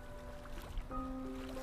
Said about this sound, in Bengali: ঢেউগুলো মৃদু তালে ঘা দিচ্ছে নৌকার তলায়